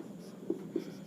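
Pen or marker writing on a board or paper during a chemistry lesson: two quick, faint strokes close by against quiet room tone.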